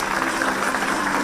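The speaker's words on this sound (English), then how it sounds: "Can we have a round of applause" A conference audience at a university event gives the chief guest a steady round of applause. The clapping is continuous and moderately loud and fills the whole brief moment.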